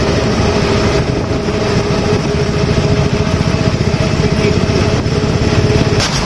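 A Vikram auto-rickshaw engine runs steadily and loudly throughout, a close, continuous rattling drone with a pulsing low-end chug, with no voices heard.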